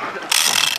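Rapid mechanical clicking from a fishing reel's drag as a shark runs with line during a shark tournament, starting faint then jumping to a loud, fast continuous ratchet buzz.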